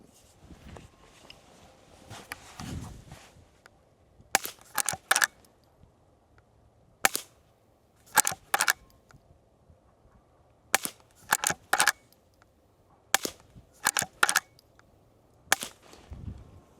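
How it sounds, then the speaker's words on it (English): Five suppressed rifle shots fired through a Dead Air Mask suppressor, heard as sharp, evenly spaced cracks, several in close pairs, with quiet handling noise between them. "We're going to shoot 5 rounds with that, and then we're going to shoot 5 rounds with pin drop."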